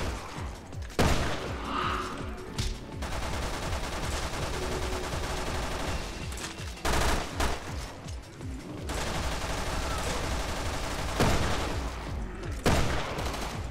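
Sustained automatic weapon fire in Resident Evil Revelations 2 comes in long loud bursts, broken by brief pauses around one, seven and eleven seconds before firing resumes.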